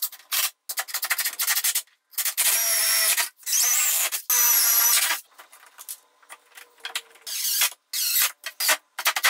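A power drill drives into a pallet-wood board on a desktop in loud, close, harsh bursts of grinding that start and stop, with short breaks between them.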